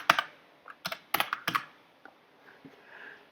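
Typing on a computer keyboard, close, faint bursts of sharp clicking keystrokes with short pauses between, no voices.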